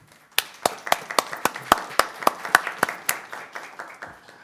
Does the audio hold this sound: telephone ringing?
no